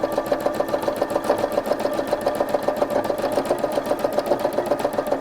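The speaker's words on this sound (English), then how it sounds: "So I'm just making my way down, and I'm just going to do a little bit of wiggling there" A sewing machine does free machine embroidery stitching on fabric with a fast, even mechanical chatter of needle strokes. It runs loud, close and alone throughout.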